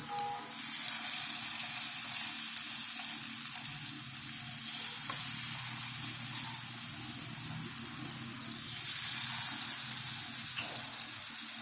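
Batter-coated eggs frying in a pan over medium heat for chilli egg, a continuous even sizzle and crackle with a couple of faint utensil knocks, steady and close, no speech.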